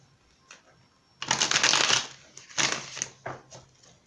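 Tarot cards shuffled in quick riffling bursts, two long loud runs and a few shorter flicks, close and clear with no talk over them.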